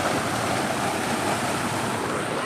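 Water flows steadily beside an off-road trail, a loud, continuous rushing wash with no break, close by and heard alone.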